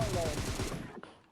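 Gunfire in the mobile battle-royale game PUBG Mobile, a rapid burst of shots on the Asia server, rattling loudly for about a second under someone talking before cutting off with a faint final crack.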